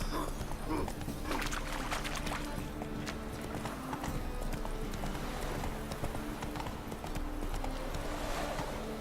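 Roach the horse in The Witcher 3 video game, steady clip-clop of hooves in a quick rhythmic gait, moderately near, with a brief whinny and faint background game sounds.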